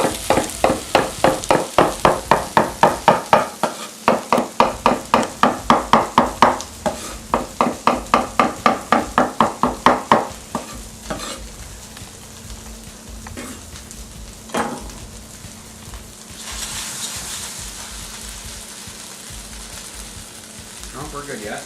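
Spaetzle browning in a pan on the stove, a rhythmic series of scraping stirs at first, then steady soft sizzling and frying, with occasional clinks of the utensil.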